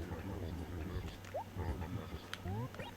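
Mole cricket in the video game Animal Crossing, a low buzzing underground trill with croaky pulses, mixed with light game ambience and short rising chirps.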